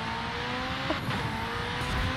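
Tuned McLaren Senna racing in Forza Horizon 5, a steady mid-level engine drone under load with a faint tire squeal and slight shifts in tone as the car powers through a corner, no talk.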